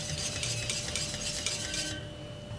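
A utensil scrapes and stirs steadily through béchamel sauce in a pot as it begins to boil, with a soft bubbling hiss underneath, close and quiet.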